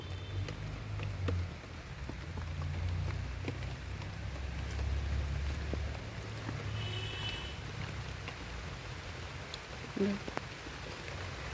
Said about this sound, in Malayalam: മഴ ശക്തിയായിട്ട് പെയ്യുന്നുണ്ട് കേട്ടോ